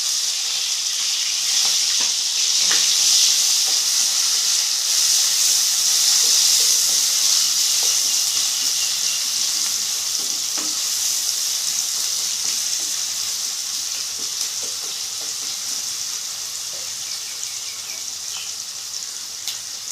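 Onions frying in a pan for a fish curry give a steady, close hissing sizzle that holds throughout and eases slightly toward the end, with faint stirring scrapes.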